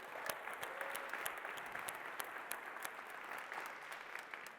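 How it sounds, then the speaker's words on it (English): An audience at a tech conference keynote claps in sustained, even applause that fills the room at a steady level from start to finish, with no speech over it. "Big round of applause for Yuri."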